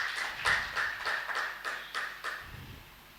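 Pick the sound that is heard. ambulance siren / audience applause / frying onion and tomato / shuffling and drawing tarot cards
audience applause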